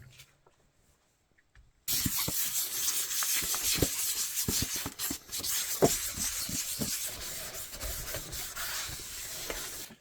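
Fine 1000-grit sandpaper is rubbed over a primed model spaceship part, wet sanding in a close, continuous broad scrubbing hiss that starts abruptly after a short quiet moment and keeps going with faint small knocks.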